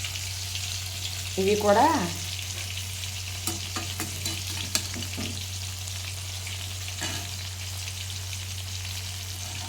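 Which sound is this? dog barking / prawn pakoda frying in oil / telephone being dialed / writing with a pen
prawn pakoda frying in oil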